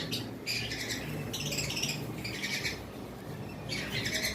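Adult blue conure parrots give repeated harsh, high squawking calls in loud bursts, close by, over a steady background murmur.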